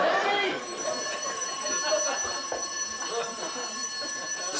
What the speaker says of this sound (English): The fire extinguisher sounds the alarm.